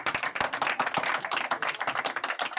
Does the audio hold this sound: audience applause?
yes